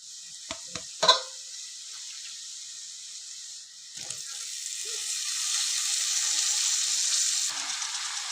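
Spring onions sizzle and fry in hot oil in a pan with onion and ginger paste, with a few sharp clinks of a spoon stirring near the start and a steady crackling hiss throughout.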